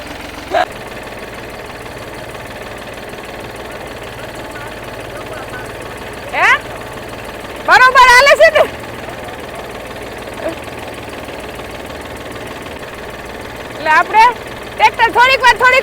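A tractor engine idles steadily in the background with a low, continuous rumble, while a voice breaks in briefly several times.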